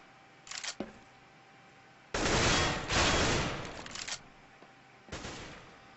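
AK rifle fire in a competitive shooter video game, heard as several bursts of rapid automatic shots: a brief volley, then a longer, loud sustained burst, then a short final burst.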